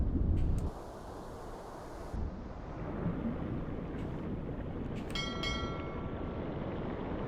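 Submarine diesel engines rumble steadily in the video game UBOAT, a low continuous drone with heavy bass, joined by brief metallic clanks and a short ringing tone.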